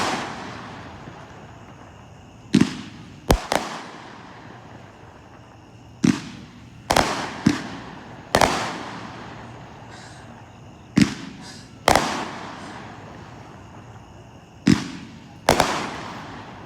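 Consumer firework shots at a grand public show in Andover, Kansas burst one after another in irregular bursts, each a sharp loud crack with a decaying crackle, heard from a moderate distance.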